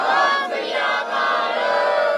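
A crowd gathered for a village meeting shouts the Sikh jaikara Sat Sri Akal together, a loud, sustained mass of voices rising in a single prolonged cry.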